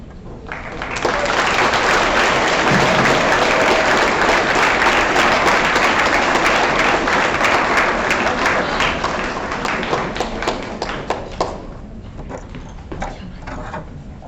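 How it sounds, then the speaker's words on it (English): Sustained applause from an audience at a school awards program, a dense, loud wash of clapping that holds steady for about ten seconds before thinning out and fading. "We can clap for all of them again."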